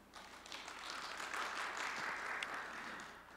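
Audience applause welcoming a sociology professor at an academic forum session, a steady, moderately faint wash of clapping from a hall crowd lasting a few seconds with no voices over it.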